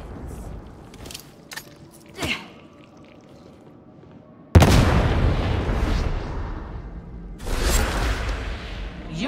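Grenade blasts in Warhammer 40,000 Darktide, a loud sudden burst at mid-clip that rumbles on, with a second heavy boom near the end after quieter clicks and small pops earlier.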